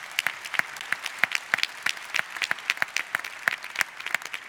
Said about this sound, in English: That's needed an applause.